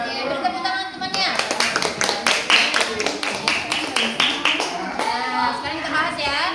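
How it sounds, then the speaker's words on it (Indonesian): Students clap for classmates in a classroom, a brief run of quick, fairly even claps in the middle, with children's voices around them before and after. "beri tepuk tangan temannya"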